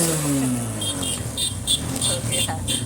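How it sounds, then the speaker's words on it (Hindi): A vehicle engine runs and revs nearby with a rising whine and steady rumble, while people talk over it in the background. "गाड़ी स्टार्ट करो।"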